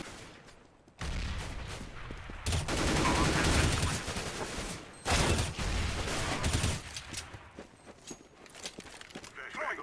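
CS:GO gunfire during a competitive match: bursts of rapid shots in clustered volleys, loud and close, separated by quieter gaps with faint footsteps and game ambience.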